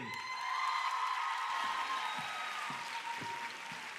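Audience at a Miss Gibraltar 2014 pageant applauding to welcome Ray Quinn: steady, dense clapping and light cheering from a crowd, sustained across the whole moment at even loudness.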